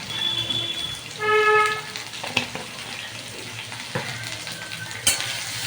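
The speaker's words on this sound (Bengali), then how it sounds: "আলুগুলোকে একটু ভালো করে ভাজতে থাকবো।" Potatoes frying in a pan with salt and turmeric for a papaya kofta curry, a close sizzle under scattered spatula knocks and scrapes, with a brief tonal whine early on, no speech.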